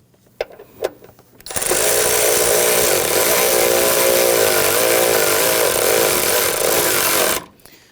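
A power tool drives bolts in the engine bay of a 2011-2019 Ford Explorer: a few light taps, then a loud, steady whirring buzz held for about six seconds before it cuts off.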